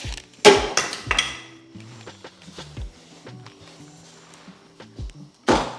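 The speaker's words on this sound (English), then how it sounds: "If in doubt, hammer it out." A few sharp metallic knocks and clanks on a part of a 1946 Pontiac Torpedo, irregular and close, with quieter tapping and handling noise between the hits.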